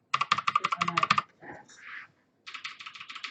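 Rapid bursts of clicky typing on mechanical keyboard switches, close and crisp, broken by a short pause with a faint clatter before another run of keystrokes.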